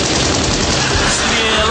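Rapid Kalashnikov rifle gunfire rattles loudly and continuously as a sound effect within a song, a dense burst of automatic shots with no pauses.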